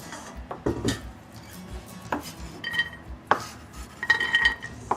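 Pots and utensils clatter and clink in a kitchen as chopped bell peppers and other vegetables are tipped into a saucepan with oil, with several sharp knocks scattered across the moment.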